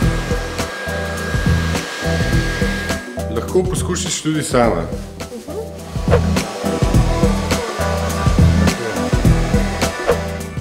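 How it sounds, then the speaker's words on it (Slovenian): A Philips hair dryer blows steadily and loudly close by while hair is lifted at the roots with a brush for volume, with someone talking over the constant airy whoosh. "Za povečanje volumna ob narastku bo uporabila krtačo in Philipsov sušilnik."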